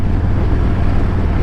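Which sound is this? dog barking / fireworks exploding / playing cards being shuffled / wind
wind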